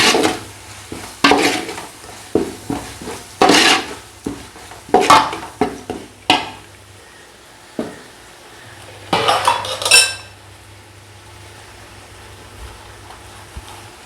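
Biryani masala with ginger-garlic paste being stirred in a metal pot: a run of loud, close spoon scrapes and clinks in bursts, with a light sizzle between strokes and quiet gaps.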